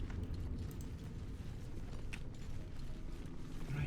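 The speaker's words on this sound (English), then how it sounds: "And I think with the lever we opened this door here." A lever-operated door mechanism grinds open in the Baldur's Gate 3 video game, producing a steady, dense rumble of creaking and ratcheting gears that holds at an even loudness for several seconds.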